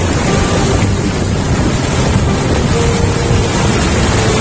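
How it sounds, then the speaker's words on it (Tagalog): Strong ocean waves surge and crash continuously at Patar Beach in Bolinao, Pangasinan, a loud, unbroken roar of surf mixed with heavy wind buffeting the microphone. "Tapos sobrang lakas pa ng alon."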